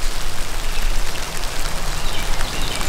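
Steady rain with sleet mixed in falls outdoors along a trapline, producing a dense, loud, continuous hiss and patter with no voices.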